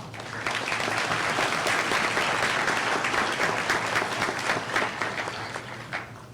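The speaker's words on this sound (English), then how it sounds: "Let's give our faculty and staff a round of applause" A graduation audience at Bevill State Community College's Fayette and Hamilton campus applauds faculty and staff, a loud, full crowd clapping that swells in quickly and holds steady before thinning slightly near the end, with no voices over it.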